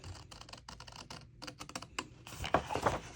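Scissors cut into cardstock along a score line while an explosion box is being made. The sound is a quick series of close, faint crisp snips and clicks.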